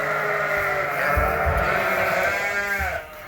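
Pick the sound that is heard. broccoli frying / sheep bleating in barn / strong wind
sheep bleating in barn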